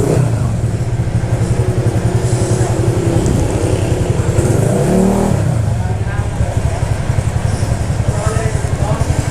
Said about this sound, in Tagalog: Gab Automoto exhaust pipes.